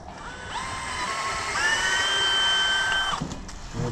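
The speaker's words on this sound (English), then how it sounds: "And we'll drill." A power drill bores into the trunk of a fairly wide maple tree to make a tap hole, its high steady whine rising and holding for a few seconds close up before cutting off.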